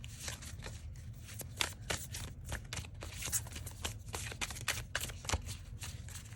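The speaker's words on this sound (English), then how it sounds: "I'll shuffle again." Tarot cards are shuffled by hand in a quiet room, a run of crisp, close riffling and flicking bursts.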